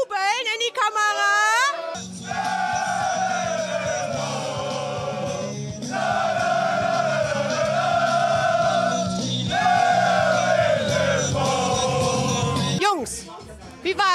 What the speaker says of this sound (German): Könnt ihr mal jubeln in die Kamera?